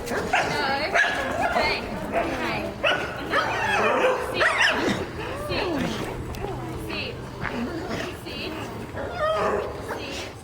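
Several dog-aggressive dogs on harnesses bark and yip excitedly close by during a rehabilitation class, with whines mixed in and people talking in the background.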